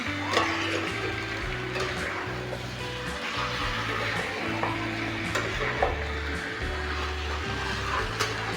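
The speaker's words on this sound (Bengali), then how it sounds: "একসঙ্গে খুব ভালোভাবে কষিয়ে নেব আলু আর চিকেনটি" Small pre-fried potato pieces and chicken sizzling together in a pan while being stirred, a continuous frying hiss broken by rhythmic scraping strokes and light clanks of a utensil against the pan.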